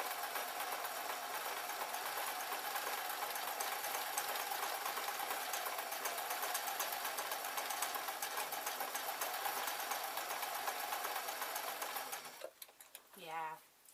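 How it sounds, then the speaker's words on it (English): A sewing machine hums continuously for about twelve seconds, stitching a bear hat with a single thread, a steady close mechanical whir before it stops and a voice briefly speaks. "I'm still sewing with just one thread for that last couple of inches."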